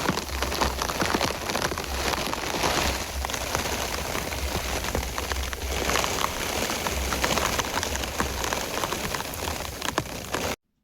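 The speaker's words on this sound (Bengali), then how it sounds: "বিভৎস পরিমাণে বৃষ্টি" Heavy rain pours down in a windy storm, drumming densely and steadily on a tarpaulin cover and the ground nearby, loud and unbroken throughout before a sudden cutoff.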